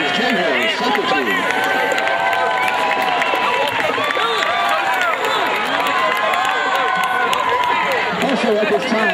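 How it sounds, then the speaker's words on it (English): A school sports crowd cheering and applauding the men's champion soccer team, loud and sustained, with shouting and children's voices mixed into the dense clapping. "let's give a big round of applause"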